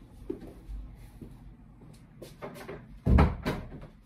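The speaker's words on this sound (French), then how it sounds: "je vais essayer de fermer la porte pour éviter de l'entendre trop fort" A door pushed shut indoors during a craft session, a few soft knocks and rattles leading to one louder thud near the end, close by with no talk.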